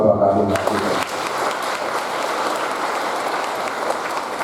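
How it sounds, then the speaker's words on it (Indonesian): A church congregation at a Trinity Sunday Mass and parish anniversary applauds for the Cardinal, a sustained dense clapping that swells after a voice ends and carries steadily to the close. "Tepuk tangan Bapak Kardinal."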